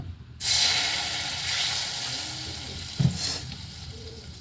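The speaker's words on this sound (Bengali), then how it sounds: "মশলাটা কষা রয়েছে, তো ওই কড়াইয়ের মধ্যে আমি অল্প জল দেব" A small splash of water hits a wok of sautéed spice paste and bursts into a loud, steady sizzle and hiss that slowly eases, with a brief stir or clatter partway through.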